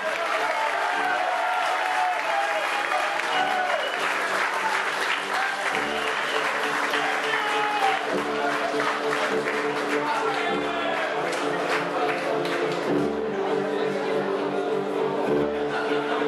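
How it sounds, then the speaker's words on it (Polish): Sustained loud applause from a crowd greeting Stal Rzeszów team captain Maciej Kuciapa, continuous dense clapping over a steady music-like bed with periodic low thumps, lasting throughout. "Gorące brawa Maciej Kuciopa!"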